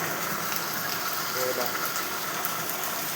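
Heavy, nonstop rain pours down steadily on a dark afternoon, a dense, even wash of falling water with no breaks.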